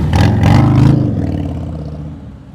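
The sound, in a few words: motorcycle riding at slow speed during practice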